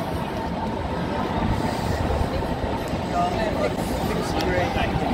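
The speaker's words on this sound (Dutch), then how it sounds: "Daar komt de metro weer binnen." Metro train pulling into the underground platform at a Hauptbahnhof, a steady low rumble of wheels and motors filling the station throughout, with crowd babble mixed in.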